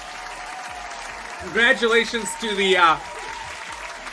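Canned applause effect played over a live stream, a short burst of clapping and cheering rising in two swells beneath a voice as he congratulates viewers.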